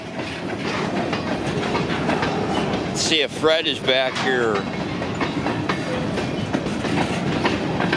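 Escanaba and Lake Superior Railroad freight cars rolling past, a steady rumbling grind of wheels on rail throughout, with a brief squeal or horn-like tone midway and someone speaking briefly over the noise.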